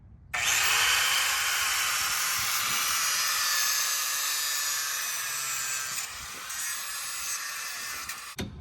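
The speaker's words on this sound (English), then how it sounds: "We're gonna grind this guy off right here first, just to get it started." A power grinder bites into metal to grind a part off, a loud, steady high-pitched whine that holds for about eight seconds before easing and cutting out near the end.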